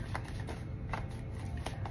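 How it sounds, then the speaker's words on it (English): A deck of tarot cards being shuffled close by, with quick repeated soft papery riffles in a steady rhythm and no voices. "let me shuffle this deck"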